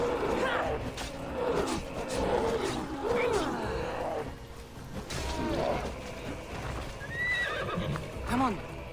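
Repeated horse whinnies and galloping hoofbeats in the video game Assassin's Creed Odyssey, loud and close, with shouted speech and game effects mixed throughout.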